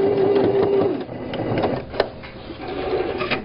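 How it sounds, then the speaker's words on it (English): A sewing machine back stitches across a tote bag handle, running in close, rapid mechanical bursts with a brief stop and a clunk midway, then whirring on again, with no talking. "Press your foot down, back stitch, and come all the way across."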